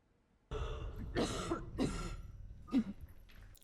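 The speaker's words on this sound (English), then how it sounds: "you gotta cover your mouth when you cough" A few harsh coughs in quick succession, close and loud, with a throat-clearing quality and short pauses between them.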